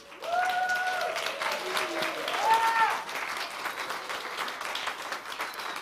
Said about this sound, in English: would you please stand so we can give you a round of applause and a blessing?